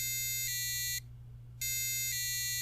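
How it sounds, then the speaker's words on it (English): A harsh electronic buzzer on a soil moisture sensor blares in long pulsing bursts, stops for a moment, then sounds again, loud and close. "With this fantastically annoying buzzer, I should not forget to water my plants"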